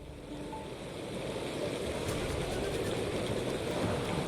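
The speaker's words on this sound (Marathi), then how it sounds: "पश्चिम उपनगरामध्ये मुसळधार पाऊस हा सध्या पडत आहे" Heavy monsoon rain pours steadily onto a waterlogged S.V. Road in Andheri, Mumbai, a dense continuous roar with rushing water and wind, building slightly louder after the first second and holding steady with no talk.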